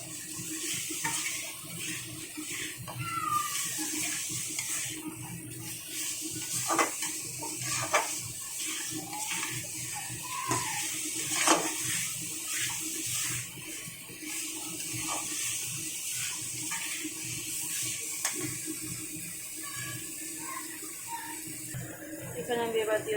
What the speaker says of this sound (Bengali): এখানে আমি এবার দিয়ে দেবো জল।